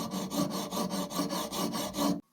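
A hand file rasps across a cut exhaust pipe in steady back-and-forth strokes, about nine even passes in quick rhythm, close and loud, stopping abruptly at the end with no talk.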